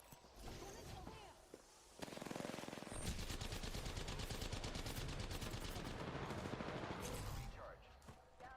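Rapid automatic gunfire in the video game Apex Legends: dense, sustained bursts of shots, loud and close, under game sound effects.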